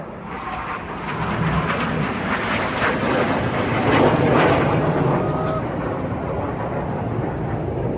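Red Arrows jet roaring past at an airshow, a broad loud engine rush swelling toward the middle and fading, over crowd and wind ambience.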